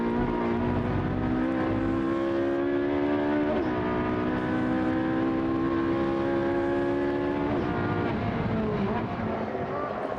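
Onboard a Trofeo Pirelli race car driven by Alex Martin at Brno, the engine howls loudly and steadily at high revs, with brief pitch dips at gear changes, as a commentator talks over it.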